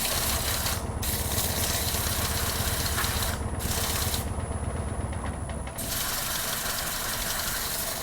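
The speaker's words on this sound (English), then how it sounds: "How much sanding are you guys up for?" Sanding a wooden chip-and-dip bowl, a continuous coarse abrasive rasp with a steady mechanical drone beneath, broken by a few short pauses and close to the listener.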